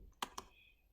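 A few crisp keystrokes on a computer keyboard, spaced irregularly and fairly quiet, tapped out at a workstation during a virtual machine network test, with low background hum between the clicks.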